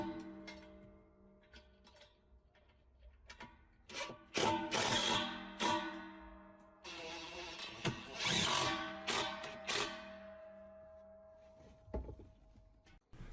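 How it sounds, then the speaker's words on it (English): A power drill drives screws to fasten a 60-gallon Ingersoll Rand air compressor to a wooden shop floor, whirring in two longer bursts amid scattered clicks and knocks, fairly close. "we're going to go ahead and screw this down to the floor, ideally through some floor joists"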